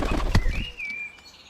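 A wood pigeon lands on a log, its wings flapping in a brief, close flurry at the start, followed by a thin, high bird tone and quieter rustling.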